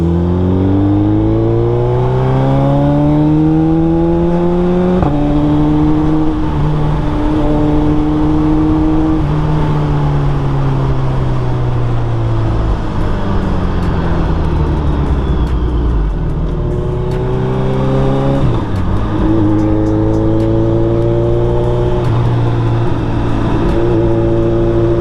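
A 2022 Suzuki Hayabusa motorcycle engine runs loud and steady while riding, its pitch climbing through the gears with drops at each shift and a strong whoosh of wind throughout.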